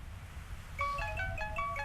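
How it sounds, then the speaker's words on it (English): Eerie electronic phone ringtone in the video game To the Moon, a repeating pattern of bright synthetic tones starting partway through over low background music, fairly loud and alone without talk. "Why do you have a creepy ringtone?"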